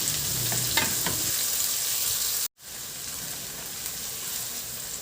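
Garlic, ginger and onion sautéing in hot cooking oil, a bright steady sizzle close by with a few stirring scrapes early on, interrupted by a brief silence before the frying continues.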